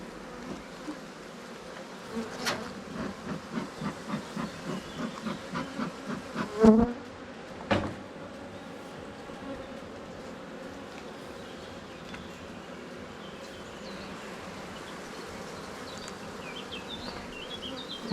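Honeybees buzzing at an open hive during a June inspection, a dense steady drone with a run of rhythmic close passes and a couple of sharp louder bursts near the microphone, then a continuing hum, no talking.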